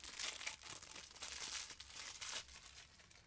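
Plastic wrapping around an emergency stop push button crinkles and tears close by in a string of short, quiet rustling bursts with no talk.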